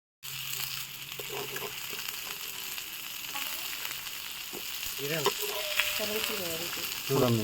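Red pomfret fish sizzles steadily on a hot tawa over a medium flame. Occasional scraping and handling noises rise near the end, and no one speaks.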